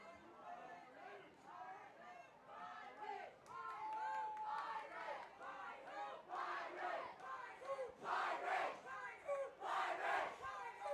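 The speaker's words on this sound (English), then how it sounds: "The crowd gets loud here as the Pine Ridge Panthers have narrowed the gap to just 3." A crowd at a varsity high school football game roars and yells continuously, with loud, surging cheers swelling toward the end.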